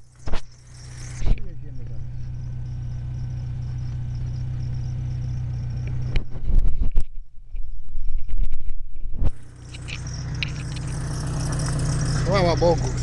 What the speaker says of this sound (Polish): Odpaliło mi auto.